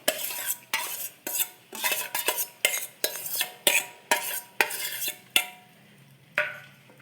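Chopped boiled eggs are mashed and mixed into potato in a bowl with about ten rhythmic, close strokes, each a soft scrape and knock of the utensil against the dish.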